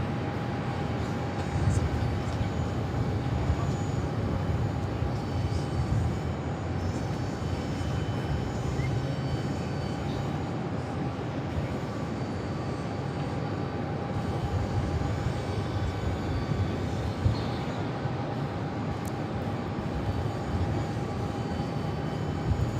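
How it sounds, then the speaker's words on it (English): An Airbus A321 jet arriving at Phoenix Sky Harbor from JFK, a steady broadband engine rumble with a faint constant whine, continuous and fairly distant for the whole stretch, with no voices. "It's an A321."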